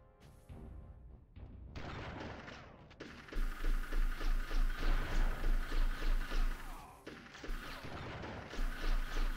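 Gunfire in the N64 game Army Men: Sarge's Heroes opens with a few scattered shots, then breaks into loud rapid automatic bursts with a steady rhythmic pulse, pauses briefly and resumes.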